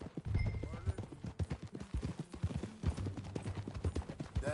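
Horse hooves clip-clop in a steady walking rhythm through a Red Dead Redemption 2 game scene, close and clear, with a neigh near the end and voices talking over the hoofbeats.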